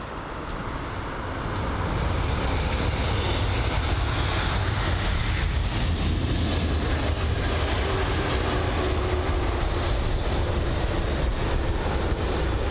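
A Turkish Airlines Airbus A330-300 arriving from Istanbul at London Heathrow gives a loud, continuous jet roar that rises within the first two seconds and then holds steady, with no talking.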